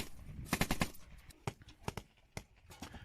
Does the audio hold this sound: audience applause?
no